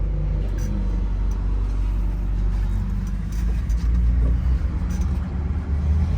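A 1964 Ford Galaxie 500XL's engine hums steadily with low rumbling road noise as it drives along, a smooth continuous drone with slight shifts in pitch.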